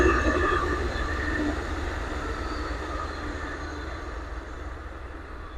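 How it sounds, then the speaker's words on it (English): An Amtrak train rolls past on a line through hilly woodland, a steady, fairly distant rumble of wheels and cars that fades slightly over several seconds with no voices. "You got an Amtrak going through."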